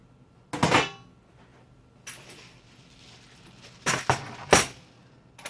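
Brass cartridge cases set down onto screws fitted in a red powder-coated metal plate of a Frankford Arsenal brass dryer, giving a few sharp metallic clinks spread across several seconds, close and fairly quiet.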